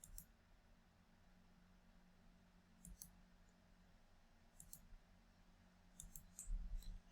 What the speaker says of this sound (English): Click, click.